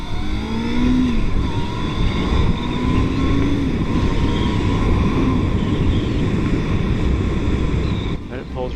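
Engine of a 1997 Honda CBR600F3 motorcycle being ridden, loud and near, with rising and falling revs and gear changes over steady road noise.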